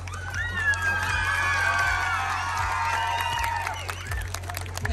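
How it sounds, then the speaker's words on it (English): Audience cheering a folklore group at a Serbian folklore event, with shouts and whoops over a broad crowd noise, moderately loud and sustained. "A huge round of applause for Morava."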